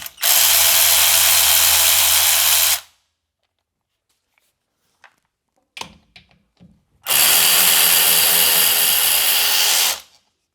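A power tool with a 12mm socket spinning out brake caliper bolts on a Chevrolet Colorado / GMC Canyon front brake: two loud close bursts of about three seconds each, separated by quiet clinks and handling noises.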